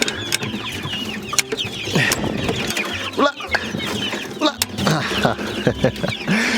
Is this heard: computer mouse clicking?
no